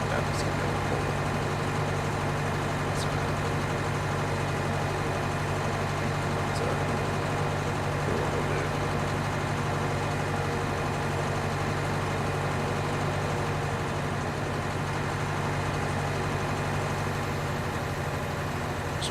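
A Lindner Lintrac 90 tractor in Farming Simulator 19 drones steadily while it strains to pull a heavy load, a constant low engine hum running throughout with no pauses.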